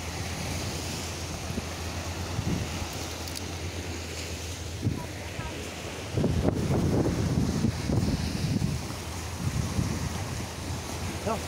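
Ocean waves at Pantai Alam Indah beach in Tegal, a continuous low surf roar under steady wind rumbling against the microphone, with a louder swell of breaking water midway.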